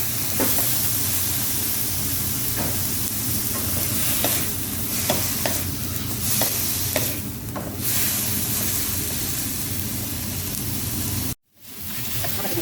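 Loud, steady sizzling of chicken frying in a hot pan for an Isan curry, with occasional stirring scrapes and clatters, then a brief cutoff near the end.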